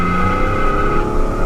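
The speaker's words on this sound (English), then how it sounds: "I wonder what it'll do if I just punch it from a dead stop." A 1997 Camaro launches hard from a standstill with its tires spinning, a loud, continuous engine roar with rising tonal whine filling the short burst, recorded close with no talking.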